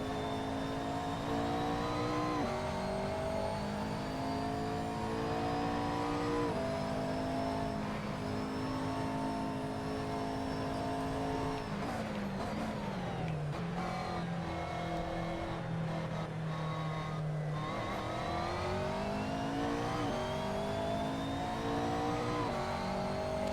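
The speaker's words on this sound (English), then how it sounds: "I love the sound of this car." A race car engine screams at high revs, rising through upshifts and dropping sharply when braking, then building again, loud and continuous with no voices.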